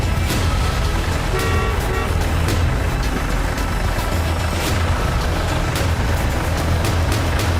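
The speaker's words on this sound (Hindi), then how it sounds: "एक गाड़ी की आवाज सुनकर हमने राहत की सांस ली।" A vehicle approaching on a remote wilderness road heads toward Ramchhenga village near the Arabian Sea coast, its steady engine rumble loud and continuous throughout, with occasional sharper clatters over the noise and no voices.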